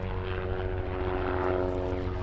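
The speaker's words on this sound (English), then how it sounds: "excuse the plane," A low-flying propeller aircraft passes overhead, a steady droning engine hum that holds loud and even throughout, with no talking.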